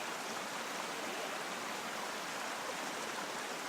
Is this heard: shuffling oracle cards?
no